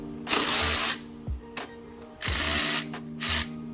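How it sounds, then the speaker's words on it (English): A power tool works the alternator tensioner bolt on a Subaru STI during a timing belt job, heard as two loud, close whirring bursts separated by short metallic clicks and clanks in a garage. "loosen up the tensioner for the alternator"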